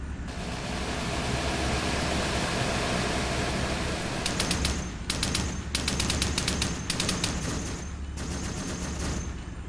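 Heavy vehicle-mounted gun in Arma 3 pounding out high-explosive rounds in repeated bursts, sharp cracking volleys starting midway over a constant roar of battle noise, no talking.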